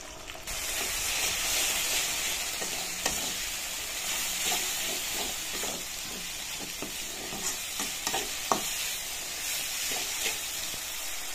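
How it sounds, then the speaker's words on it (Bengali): A spice paste of ginger, garlic and salt fries in a pan with a broad, steady sizzle and hiss, while a spoon stirs and taps the metal in scattered close knocks; no voices. "মশলাটা ধীরে ধীরে কষিয়ে"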